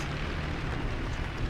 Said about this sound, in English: I hear rockets.